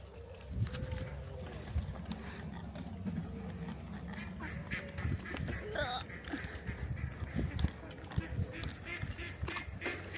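Ducks quack near a road in Elveden Forest at Center Parcs, scattered short calls rising over outdoor background noise and movement, with people talking throughout.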